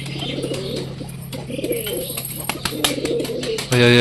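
Pet pigeons kept at home cooing close by, with repeated throaty bubbling coos over a steady low hum, several overlapping bird calls and a louder burst at the end.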